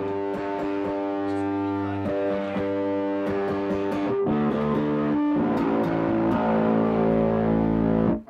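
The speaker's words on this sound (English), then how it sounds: "kind of boosted low end distortion, a little bit, dare I say, muff, kind of fuzzy sound" Thick, fuzzy distorted bass guitar through a COG Effects Knightfall distortion pedal with a boosted low end, sustained notes and chords ringing out continuously at steady loudness.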